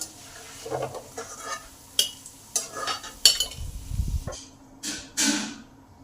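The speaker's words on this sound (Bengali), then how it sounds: "80 ভাগ ভাজা চপগুলো আবার 20 ভাগ ভেজে নেবো খাওয়ার মতন করে।" Rohu fish chops fry in hot oil in a wok, with a soft sizzle under repeated sharp clinks and scrapes of a utensil turning the chops.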